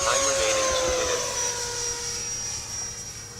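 A 70mm electric ducted-fan F-16 model jet roars past. The high whine is steady and fairly close, with a faint tone that shifts as it passes. A voice speaks over it.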